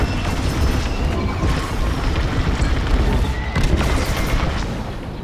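Enemy blaster fire striking a starfighter in Star Wars Squadrons, loud close booms and crackling impacts in a dense barrage that eases slightly at the end.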